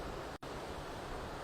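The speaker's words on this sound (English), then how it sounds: "Hopefully you can hear me because it's a little windy" Wind on a beach in Cancun on a stormy day blows steadily into the microphone as a broad, fairly faint rush, broken by a brief dropout.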